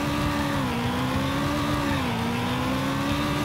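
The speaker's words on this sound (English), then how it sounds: "Engine sounds pretty gash in this game" A car engine revs steadily in a racing video game, a loud continuous whine that dips and rises slightly in pitch with throttle changes and has no other sounds over it.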